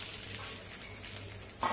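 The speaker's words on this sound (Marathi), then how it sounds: "आता तयार फोडणी रायत्यावरती घालूया" Hot tempering of oil with asafoetida and dried chilli pieces is poured onto bottle gourd raita, giving a faint, steady sizzle that flares up briefly at the very end.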